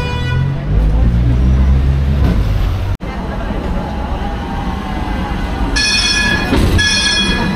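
A tram in Istanbul pulls into a station and comes to a halt, its steady rumble and rolling wheel noise filling the scene, with a high brake squeal or tone rising near the end; a voice speaks over it.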